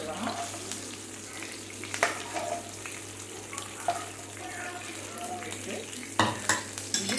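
Cloves and cardamom frying in hot oil for a chicken gravy, a close sizzling hiss with clinks and scrapes of a spoon stirring the pan, a few sharper knocks near the end, no talk.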